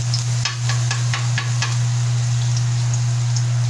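Garlic frying in a hot pan for pork sinigang, a steady bright sizzle with a few light crackles and stirring taps, alongside a constant low electrical hum.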